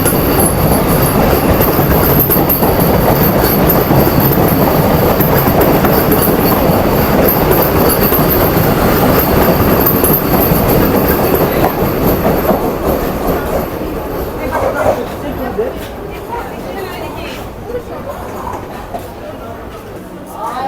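The Sealdah–Ranaghat AC local train runs on Kolkata suburban rails with a loud, steady rumble and clattering wheels heard from inside, fading noticeably toward the end; a voice talks over the noise.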